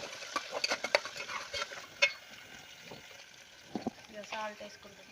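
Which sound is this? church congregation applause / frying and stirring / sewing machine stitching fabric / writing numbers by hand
frying and stirring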